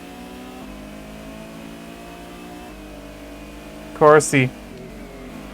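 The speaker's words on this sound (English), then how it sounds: "Supra and the Skyline pull away" Race cars in Gran Turismo 1 at Grand Valley, including a Supra and a Skyline, hum with a low steady engine drone rising gradually in pitch, while someone talks briefly over it near the end.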